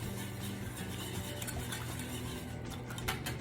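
Egg yolks and allulose sweetener are mixed in a pot with quick, continuous scraping and light clinking of a utensil against metal. The sound is close but fairly faint, with no talking.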